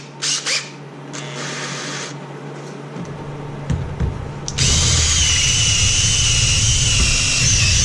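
A power drill enlarges a hole in a metal part for a Simplicity tractor snow blower, first in short bursts and then as a loud, steady whine up close.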